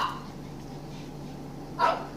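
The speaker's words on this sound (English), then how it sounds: "My dog is barking, she wants in." A single dog bark rings out briefly near the end, somewhat distant, over a low steady background hum.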